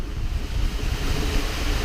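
A rider slides down a water slide at Yas Waterworld in Abu Dhabi, with a close, continuous rush of splashing water and wind buffeting the microphone throughout, no talking.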